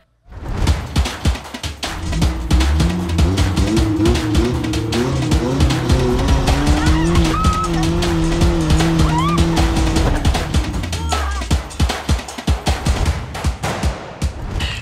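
An off-road car stuck on a steep uphill forest track crossed by roots strains with its engine revving hard and loud, wheels spinning and rattling, the roar surging and dipping near the end.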